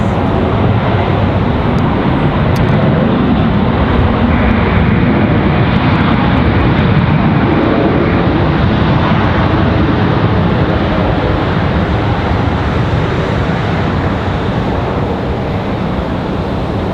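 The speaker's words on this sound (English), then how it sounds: "So Delta 1518 down." Delta flight 1518 lands at Raleigh-Durham International, a loud, steady, broadband jet roar filling the whole stretch without pause and slowly easing toward the end.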